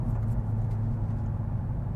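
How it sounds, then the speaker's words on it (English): A big Dodge Charger Hellcat Redeye sedan accelerating gives off a deep, steady engine rumble, fairly loud and close, with no voices over it. "you hit the accelerator pedal and the car takes off like a rocket ship"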